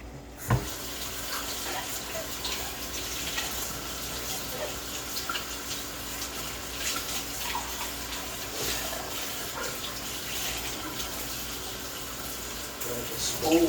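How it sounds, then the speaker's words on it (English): Tap water runs steadily into a bowl at a kitchen sink as it is rinsed out during cooking, a continuous close splashing hiss that changes slightly as the bowl shifts. "Covered up while I rinse this bowl out."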